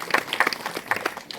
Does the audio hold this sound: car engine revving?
no